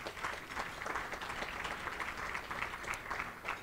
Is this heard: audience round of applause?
yes